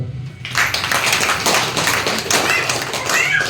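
Applause at a felicitation ceremony honouring a karate athlete, many hands clapping densely and steadily after a brief quiet start, loud and close throughout.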